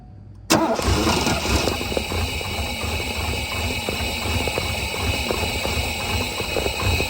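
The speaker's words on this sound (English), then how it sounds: "I'm going to connect the battery, crank the car, and see if fuel comes out of there." A 1984 Mercedes 500SEC with a bad idle and stalling problem cranks and catches. It bursts to life abruptly and settles into a loud, steady, rough-edged run up close, with no talking.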